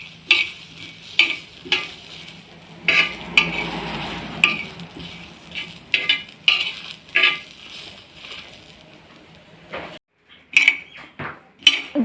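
Whole spices frying and being stirred in a pan, with repeated metallic scrapes and clinks over a low sizzle, close and fairly loud.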